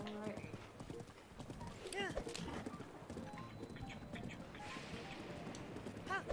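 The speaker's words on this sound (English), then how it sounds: "Making horse sounds." Horse hooves clip-clop steadily through the Zelda: Breath of the Wild game, with a short whinny partway through and a game soundscape behind, while a person talks over it.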